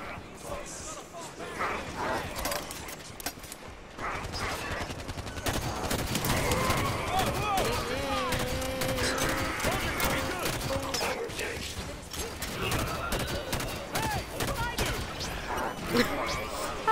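Rapid gunfire and weapon effects from the Halo 5 video game fill the scene in dense, continuous bursts, with players talking over the shooting throughout.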